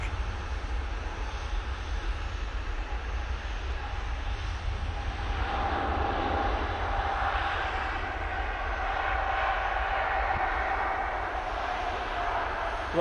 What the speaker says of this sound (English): Emirates A380 arriving now.